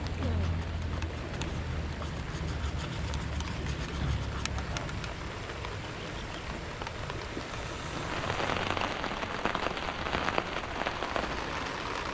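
Rain falling at a wild campsite during heavy weather, a dense steady patter on surfaces close by that grows a little heavier toward the end, with a voice talking underneath.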